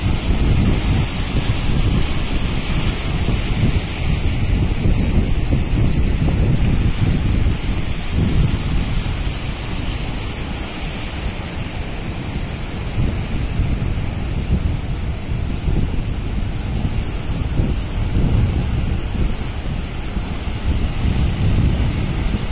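Large ocean waves roll and break at low tide by the Plawangan inlet at Puger, with a constant wash of surf and wind buffeting the microphone throughout, no voices heard.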